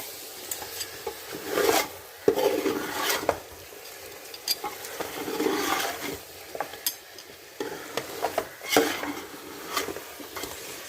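Home-ground masala is stirred into chicken for biryani with a spoon scraping a pot, giving irregular rasping strokes and light sizzling in bursts, close and clear, with no talk.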